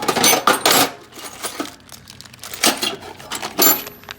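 Bolts rattle and drop onto a hard surface during teardown of a 1980s Chevrolet GM steering column. Several bright metallic clinks come in short bursts, spaced out between quieter handling noise.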